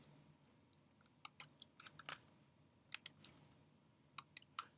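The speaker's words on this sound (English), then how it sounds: "I'm just going to type" A computer keyboard being typed on in short bursts of quick, crisp key clicks separated by pauses; close but fairly quiet, no talking.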